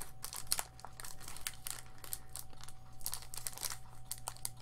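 Plastic foil wrapper of a Rivals of Ixalan trading card booster pack crinkles and tears close up, a continuous run of crackling rustles with sharper bursts as the stubborn packaging is worked open, no voice over it.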